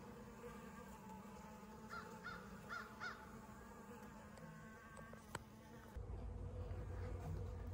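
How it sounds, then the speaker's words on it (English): Honeybees buzz steadily around a pollen feeder, a dense hum with individual insects passing close, and a brief knock partway through. "Bees already found it, picking it up."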